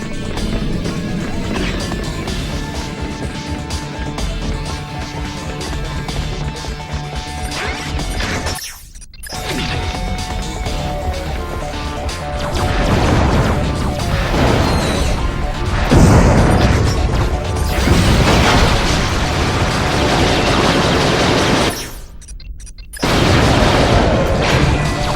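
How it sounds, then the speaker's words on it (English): Explosions blow up a statue in the video game Ratchet: Deadlocked on Planet Torval, loud crashing booms and debris smashes over continuous game sound with two brief dropouts. "Team Darkstar will have to blow up the statue to access the hangar underneath"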